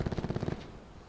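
Rapid burst of sniper rifle gunfire in a first-person shooter video game, a quick run of sharp loud reports over about half a second, then a decaying tail as the echoes fade.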